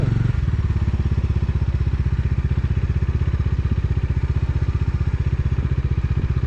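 A motorcycle engine thumps in a fast, steady rhythm close by while riding a snowy mountain road between Bageshwar and Dhakuri, loud and continuous with no talk.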